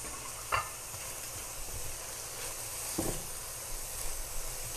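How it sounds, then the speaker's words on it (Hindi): Chopped onion and fresh coriander go into a hot frying pan, producing an even, moderate sizzle with two brief scraping stirs of a spoon. "और साथ ही डाल दीजिए इसमें अंदाजे से थोड़ा सा प्याज और ये हरा धनिया"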